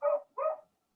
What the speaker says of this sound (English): My cat is hearing your dog barking,